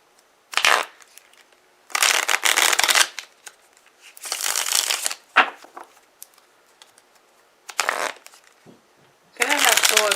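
A deck of tarot cards being shuffled in several loud, crisp bursts of riffling and rustling with short pauses between them, and a brief voice near the end.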